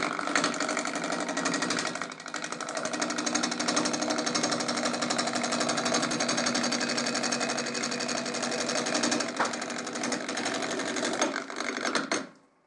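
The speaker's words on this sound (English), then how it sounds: "I'm going to start out with a 5/8 bowl gouge" A wood lathe roughs a hollow form with a 5/8 bowl gouge, making a steady, loud, buzzing chatter that runs continuously before stopping abruptly at the end.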